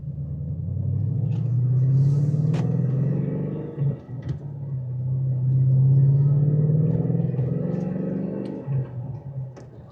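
A 2014 Shelby Mustang GT350 with a supercharger, its engine giving a low steady rumble that swells and eases at light throttle, with a faint blower whine riding above it, heard from inside the car.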